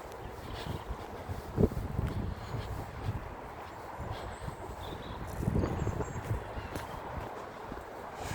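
Horses' hooves clip-clopping on a countryside lane by farmland with old trees, soft irregular thuds at a moderate distance under steady wind noise.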